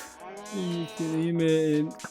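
Cows in a Minecraft-style video game moo in two drawn-out, mid-pitched calls back to back, close and clear, with faint game sounds around them.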